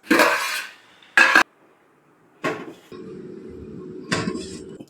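Metal clatters against metal in a few sharp bursts, a metal plate set down to cover a biryani pot, then a steady low hiss between clanks.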